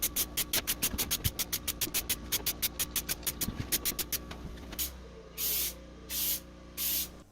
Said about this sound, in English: I'm using a piece of scrap plywood to stop the spray paint from getting into the areas